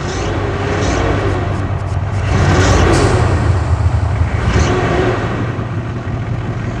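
A truck engine idles steadily in a mobile driving game, a continuous low rumble with slight swells in revving, loud and close throughout with no talking.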